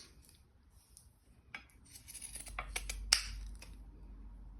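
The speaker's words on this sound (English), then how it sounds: "Make sure I pick up the right scissors." Metal scissors are picked up and handled among craft supplies, giving faint scrapes and light clicks that build into a cluster of sharp metallic taps and one bright clink, close and quiet.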